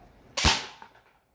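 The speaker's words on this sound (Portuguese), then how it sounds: "Deixa eu dar uns tiros aqui" A Rossi Neptune 9 airsoft pistol fires a single sharp semi-automatic shot at close range, a loud crack with a short fading tail and a faint click afterward.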